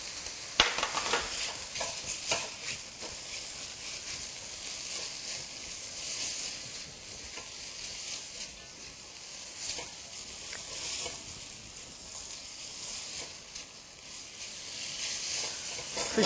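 Squid with onion and carrot stir-fries in a pan, a steady close sizzle and hiss with occasional scraping and stirring clatter, fairly quiet and continuous throughout.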